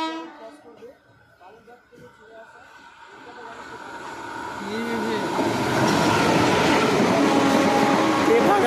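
The Tebhaga Express, running Balurghat to Kolkata, passes on the main line at Dinajpur while another train waits on a side line. A rumble builds from near quiet into a loud, sustained roar, and people speak over it.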